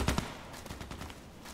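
Quick bursts of gunfire in an online shooter match on the Old Sawmill map, a few sharp close shots in the first half followed by fainter scattered pops.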